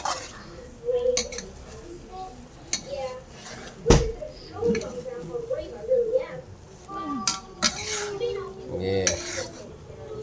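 Food stirred in a cooking pan by a child learning basic home cooking, with scraping strokes and occasional clinks of the utensil against the metal under ongoing conversation.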